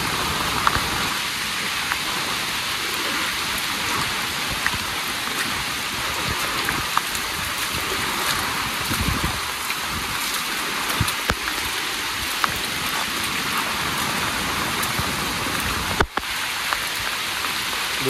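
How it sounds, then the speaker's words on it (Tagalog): Steady heavy rain falls during Typhoon Kristine in Bicol near a stream crossing, a dense continuous hiss of drops hitting surfaces close by, with light wind and no voices. "Buti na nga lang, ulan lang eh."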